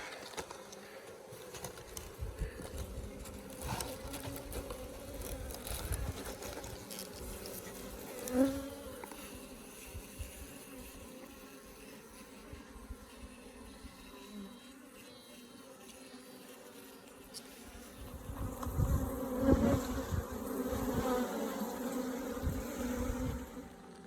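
Honey bees buzz around a water box hive in a spring garden, a dense, continuous droning swarm that rises and falls in loudness throughout, with occasional faint background noises.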